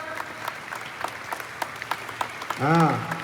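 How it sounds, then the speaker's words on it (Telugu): An audience at a children's sports event claps in scattered, uneven bursts that build into sharp repeated hand claps, and a voice speaks briefly at the end. "గట్టి కొట్టిన ఒకసారి క్లాప్స్."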